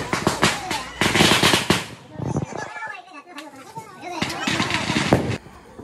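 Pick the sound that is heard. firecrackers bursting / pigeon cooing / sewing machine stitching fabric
firecrackers bursting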